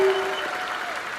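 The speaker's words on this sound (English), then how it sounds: "Can we give some special applause to the guards and everyone here?" At AURORA's November 2024 USA talking session, a concert audience applauds in a brief, soft wash of clapping, with a sustained tone fading under it.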